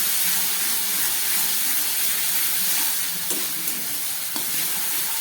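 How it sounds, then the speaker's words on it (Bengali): Spices frying in a pan for a spicy tangra fish curry, a steady close sizzle and hiss with occasional stirring scrapes, no voices. "ভালো করে কষিয়ে নিচ্ছি"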